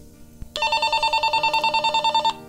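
A Nestling HK-588 walkie-talkie sends its call ringtone, a loud, steady electronic melody of rapid repeating beeps that starts abruptly and runs for about two seconds before cutting off, with no talk over it.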